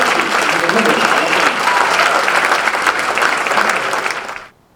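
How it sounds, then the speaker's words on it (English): A hall of fame induction crowd breaks into loud, dense clapping that holds strong for several seconds before cutting off abruptly. "Let's give a big round of applause for Colleen Martin and Colleen Sanborn"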